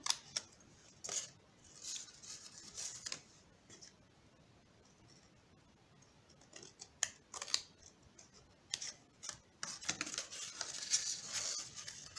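Scissors snip through a cardboard module for a Bascetta icosahedron, a series of short, crisp cuts arriving in irregular bursts, close and fairly quiet, with soft handling rustle in between.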